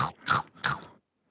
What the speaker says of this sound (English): you gotta crunch your mulch so loud.